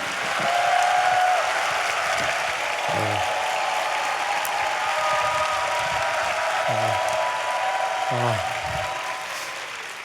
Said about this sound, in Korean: 우리 박수로 맞이하겠습니다